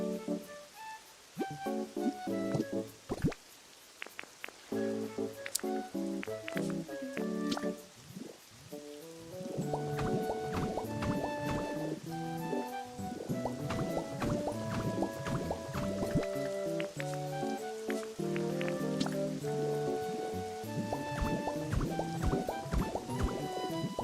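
Crop watering in the Pokopia video game, a string of bright plinking, dripping water tones that builds into a busy, steady sparkle of droplet sounds.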